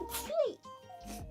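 A short, sharp sneeze bursts out close to the microphone, a single quick exhalation set among a voice speaking.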